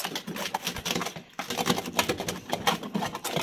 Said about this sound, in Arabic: سامعين انتوا صوت الخرفشه ده؟ سامعين؟ ده دليل على ان الرقاق بسم الله ما شاء الله ايه مظبوط.